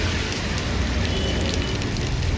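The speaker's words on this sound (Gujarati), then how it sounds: "અત્યારે વરસાદ ચાલુ જ છે" Rain patters steadily and close, a crackling, even downpour with no pauses over the short stretch.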